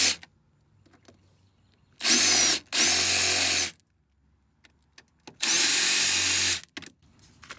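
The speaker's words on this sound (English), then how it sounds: "let's see if we can drill these rivets out." A power drill whines loudly in three bursts while drilling out rivets on a Porsche 914, the first two nearly back to back, separated by quiet pauses with faint handling noises.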